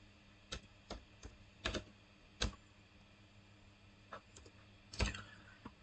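Computer keys are struck in sparse, irregular clicks while text is entered into HTML code, a handful of light taps close to the mic with pauses between them over a quiet background hum.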